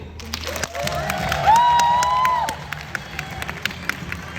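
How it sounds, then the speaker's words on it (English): An audience at a travel leadership course event cheers and claps to welcome a speaker on stage. A tonal whoop rises over the crowd noise midway, and the clapping keeps going around it. "please give applause to Alice Lin"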